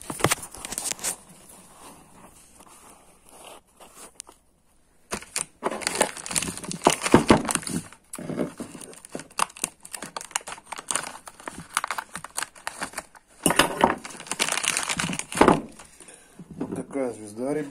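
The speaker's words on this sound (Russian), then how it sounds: "Сейчас буду распаковывать звездочку." Packaging around a damped 16-tooth motorcycle drive sprocket for a CBR1000RR being torn and unwrapped by hand, with repeated loud crinkling and crumpling bursts, a brief quiet pause, and talk in between.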